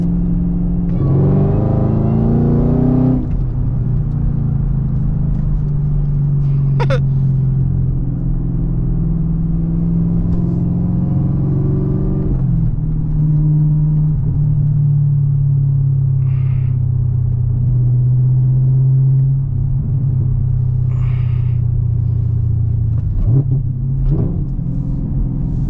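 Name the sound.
Camaro ZL1 6-speed accelerating in a pull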